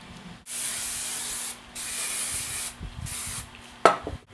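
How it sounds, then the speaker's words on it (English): Aerosol hairspray misted over a French fishtail braid in several close, steady hissing bursts separated by short pauses, followed by a brief clatter near the end. "we're just going to spray everything"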